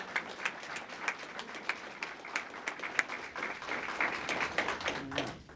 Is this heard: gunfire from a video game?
no